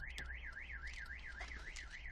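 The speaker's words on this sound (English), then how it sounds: "if I open the doors, the alarm will trigger." HAWK HA-240 car alarm set off by opening the car doors, wailing in a steady up-and-down siren sweep that repeats evenly and loudly throughout, with no voices.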